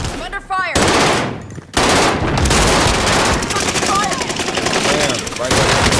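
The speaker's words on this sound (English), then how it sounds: "I'm under fire." Gunfire in the video game Call of Duty Warzone, loud sustained automatic bursts with brief pauses, close and harsh, with people talking in between.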